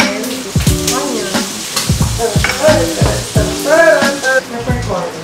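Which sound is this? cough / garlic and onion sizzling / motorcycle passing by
garlic and onion sizzling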